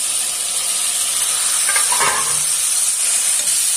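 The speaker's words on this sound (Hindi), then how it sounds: "मसाले हमारे अच्छे से भून चुके हैं तो अब हम ये कटा हुआ टमाटर इसमें मिला देंगे।" Chopped tomatoes tipped into roasting spices for a potato and green chickpea curry, giving a steady sizzle with a burst of stirring and spattering midway, close and fairly loud, with no talking.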